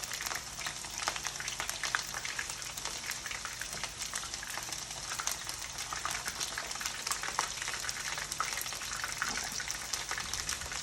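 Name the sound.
sesame chicken pieces frying in hot oil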